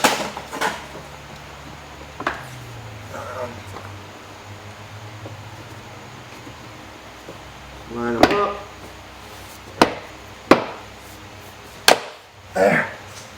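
A few sharp mechanical clicks and snaps ring out one at a time against quiet background hiss as door lock pins click into place in a Mercedes C63 AMG rear door, the first a small cluster, the rest spaced apart.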